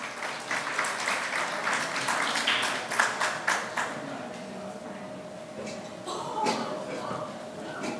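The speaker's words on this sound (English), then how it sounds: "Please give them a huge round of applause." An audience at a CII panel discussion breaks into sustained applause as panelists take their seats on the dais, a dense wash of clapping filling the room, with faint shuffling and murmuring underneath.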